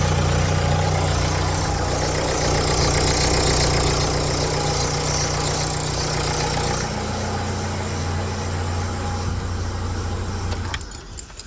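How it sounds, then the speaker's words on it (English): A Nissan NV200 van's 1.5 dCi diesel engine idles close by with a steady clattering hum for about ten seconds before it cuts off near the end. "Start the engine"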